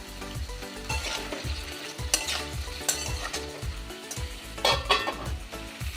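Papaya, potato and ash gourd stems sizzle in a pan while a utensil scrapes and stirs in a steady rhythm, with occasional sharper clinks against the metal.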